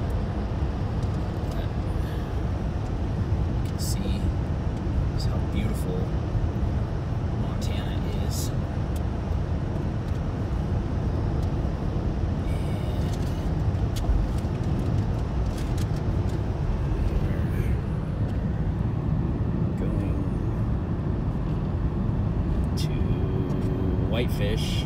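A car drives along a road toward Whitefish, Montana, near Glacier National Park, its steady low rumble and road noise continuous throughout while people talk inside.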